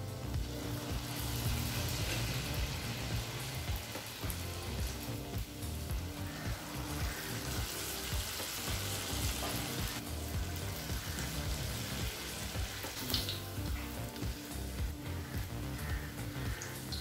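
Sweet wheat bonda fry in hot oil, giving a steady, close crackling sizzle with dense bubbling and occasional sharper pops throughout, and no voices over it.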